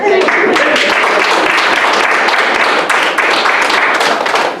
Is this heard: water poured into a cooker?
no